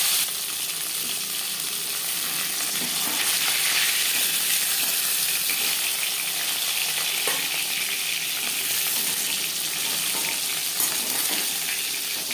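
Pieces of bhola fish fry steadily in a pan of hot oil, giving a dense, continuous sizzle that stays loud and close throughout, with a few small pops and spatters and no talking.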